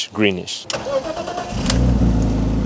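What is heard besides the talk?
car engine starting and idling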